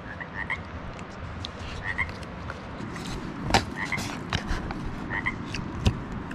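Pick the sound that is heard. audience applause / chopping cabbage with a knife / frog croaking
frog croaking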